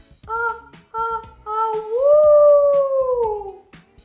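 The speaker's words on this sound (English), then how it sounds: "The howling got louder." A drawn-out howl, like a dog or wolf, comes in short rising calls followed by one long, loud, sliding howl at close range, with no talk over it.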